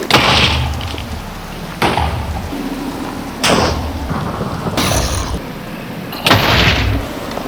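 Booming grenade explosions from a Minecraft modern combat mod, five heavy blasts spaced roughly every one and a half seconds, each a sharp crack followed by a rumbling tail, loud and close.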